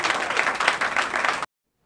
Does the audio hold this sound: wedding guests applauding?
yes